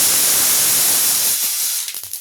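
Broken dried red chillies and mustard seeds sizzle in hot oil for a Kongunadu-style dal tempering, giving a loud, dense hiss that thins into scattered spits and crackles as it fades.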